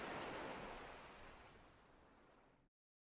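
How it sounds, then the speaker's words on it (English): Shoreline water ebbs and flows on a beach in the video game Towers of Aghasba, a broad, steady wash of surf that slowly recedes and fades before cutting off abruptly. "the sound of the ebbing and flowing water moves around naturally and sounds amazing"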